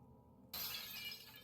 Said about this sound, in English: So he smashes the glass case open.